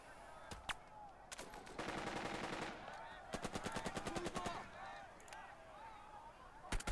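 Bursts of machine gun fire crackle in rapid repeated volleys from the World War II strategy video game Burden of Command, with scattered single shots between longer rattling strings.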